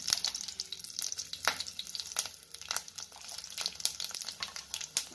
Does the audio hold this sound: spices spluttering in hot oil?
yes